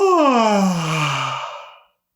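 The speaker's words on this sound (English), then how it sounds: "go ahead and do a big fake yawn with me" A deliberate fake yawn from one person: a single long, voiced, descending breathy moan lasting nearly two seconds, loud and close, fading out at the end with no other talk.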